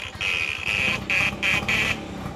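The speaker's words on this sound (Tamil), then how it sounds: "அதுக்கப்புறமா இதுதான் ஆரன் சவுண்டு." Horn of a vintage Bajaj Super scooter sounding in five short, buzzy honks in an uneven rhythm, close and fairly loud over a low background rumble.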